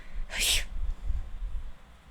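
A human voice imitates a little bird sneeze with one short, high, breathy burst, followed by quiet low rumble and room noise.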